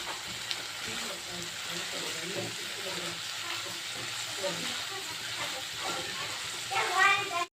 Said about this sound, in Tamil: அடுப்பை குறைச்சி வச்சு ஒரு 5 நிமிஷம் இது வேகட்டும்